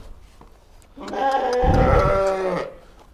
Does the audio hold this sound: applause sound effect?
no